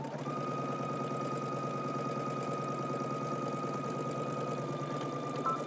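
A sewing machine runs continuously, stitching the short sides of fabric together with a 5/8-inch seam allowance, giving a steady, fast mechanical hum and rapid needle chatter without pause.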